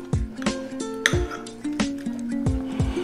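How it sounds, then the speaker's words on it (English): A spoon works through compound butter mixed with tequila and lime juice in a bowl, giving a steady run of sharp clinks and scrapes against the dish, close and clear with no talk. "mix to incorporate"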